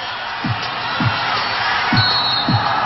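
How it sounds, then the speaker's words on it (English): Roaring volleyball crowd at a UST versus ADMU college match, a steady loud wall of cheering and whooping, with a ball bouncing in a regular rhythm beneath it. "And the crowd is going nuts."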